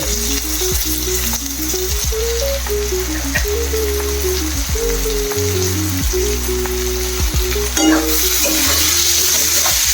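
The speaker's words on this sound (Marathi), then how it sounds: "आता मी इथे त्याच्यामध्ये एक मोठ्या साईजचा टोमॅटो बारीक कट करून टाकते" Finely chopped tomato sizzles steadily in a pan with onion that has already browned, a loud, close, continuous frying hiss with occasional stirring, and no voices.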